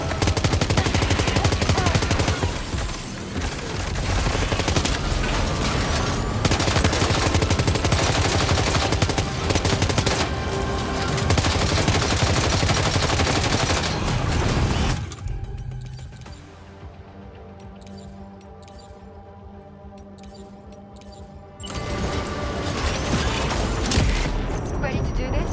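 Gunfire in the video game Death Stranding 2: heavy, loud automatic bursts and booming shots fill most of the stretch, drop to a quieter lull with lingering clatter, then surge again near the end.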